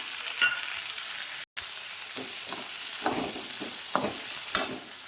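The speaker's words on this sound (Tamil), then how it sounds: "பாவக்காய் வதங்கிட்டு இருக்குது வதங்கட்டும்" Bitter gourd sautés in a pan with a steady broadband sizzle, broken by a brief dropout and several scraping stirs of a spatula toward the end; no one talks.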